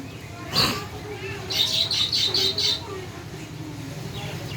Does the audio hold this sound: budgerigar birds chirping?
yes